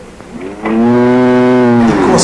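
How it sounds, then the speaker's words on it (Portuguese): A cow gives one long, loud, close moo lasting well over a second, steady and rich with no one talking over it. "É boi."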